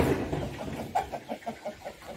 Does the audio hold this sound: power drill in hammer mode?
no